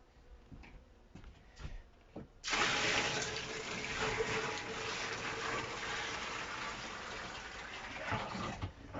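Warm water poured from a 10-litre bucket for bee feeding syrup, a loud continuous splashing gush that starts abruptly after a few quiet knocks and runs steadily to the end, with no talk.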